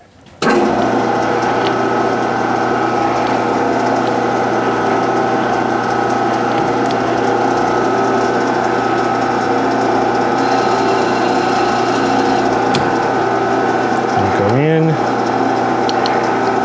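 A metal lathe turning slowly at 150 RPM while single-point cutting 28 TPI threads hums and ticks steadily up close, with a brief whine of the motor slowing near the end.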